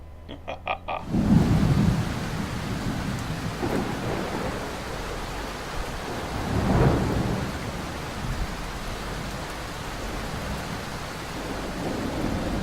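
Video game rain hisses steadily throughout while low thunder rumbles rise and fade a few times, loud at first and then softer in the distance.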